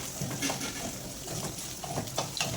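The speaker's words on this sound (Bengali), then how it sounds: "এইভাবে আমি ডিমের ভুজিয়াটাকে ভালো করে নেড়ে চেড়ে নিচ্ছি মিডিয়াম ফ্লেমে" Scrambled egg bhujia being stirred in a pan over a medium flame, a steady soft sizzle with light scraping and spatula taps, close and continuous, with no voices.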